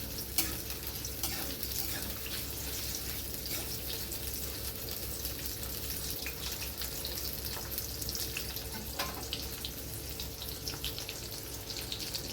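Onions fry in a pan while a spatula stirs them, giving a steady sizzle broken by scraping strokes and light taps of the spatula, close and moderately loud.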